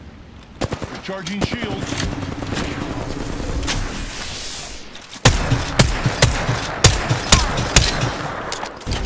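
Rapid gunfire and impacts crackle through a video game firefight, with dense volleys and sharp shots that grow louder and punchier in the second half, under a player's talk.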